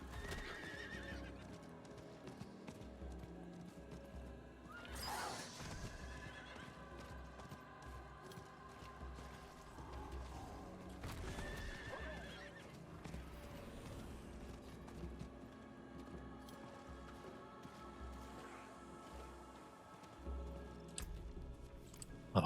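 Horse riding in Diablo 4 across the Dry Steppes: steady clip-clop of hooves carries throughout, with occasional whinnies and neighs rising over the gallop and faint mechanical game sounds underneath, no talking.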